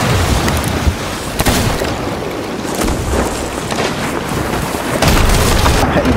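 A cannonball smashes into a wooden ship in the video game Sea of Thieves, a loud crashing boom with splintering wood over steady ocean and ship noise that stays dense throughout.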